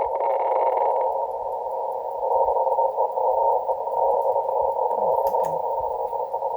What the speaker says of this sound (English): Yeah, the vertical antenna picks up a lot more noise now.